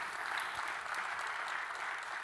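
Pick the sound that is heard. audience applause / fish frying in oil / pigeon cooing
audience applause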